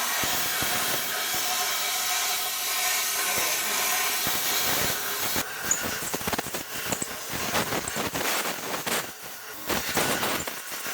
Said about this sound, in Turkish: Benzin tabancasıyla güzelce içini yıkıyoruz.